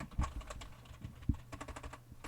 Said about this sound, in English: Why am I typing that again?